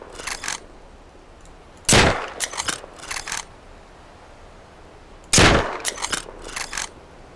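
Two loud, close bolt-action rifle shots in the video game Rust, each followed by metallic clacks of the bolt cycling, separated by a few seconds of quiet; no speech.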